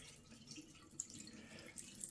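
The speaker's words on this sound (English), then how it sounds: "All right, let's empty the water." Water pours and trickles steadily from an emptied dehumidifier tank, a faint continuous splashing with a few small drips near the end.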